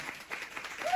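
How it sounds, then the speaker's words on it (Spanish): Short burst of audience applause at a Bloomsday celebration in a Granada pub, dense clapping with crowd noise rising toward the end. "¡Aplauso!"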